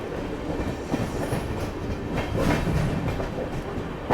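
A Chennai Central to New Jalpaiguri superfast express train, heard from on board as it approaches New Jalpaiguri station, with a steady loud rumble of rolling wheels and a faint clickety-clack over the rail joints.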